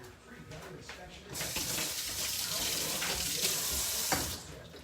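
Water pours steadily from a tap into a sink during washing, a broad continuous hiss that swells louder after the first second and holds until it eases near the end, with faint voices in the background.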